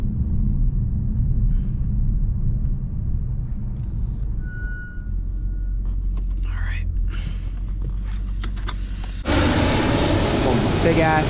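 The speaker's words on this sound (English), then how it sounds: "it's loud as hell because it's airplanes." A large airplane passes overhead with a loud, deep, sustained engine rumble, heard from inside a car, swelling into a broader roar near the end.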